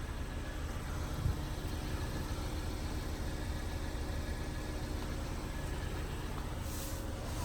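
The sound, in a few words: MG QS 7-seater petrol turbo engine running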